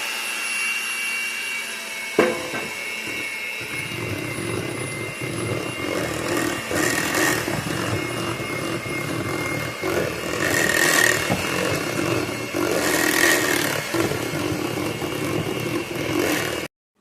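An electric mixer beats vanilla cake batter on its lowest speed, a steady whirring drone running throughout after a brief clunk at the start, fairly loud and close with no speech.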